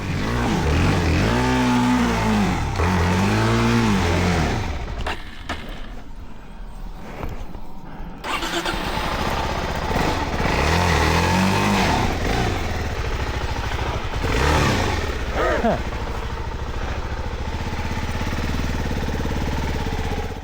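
Suzuki DR-Z4S dual-sport motorcycle engine revving hard while climbing a rutted trail up to a rocky ledge, a loud close rasping drone that rises and falls in pitch through repeated throttle bursts and dips.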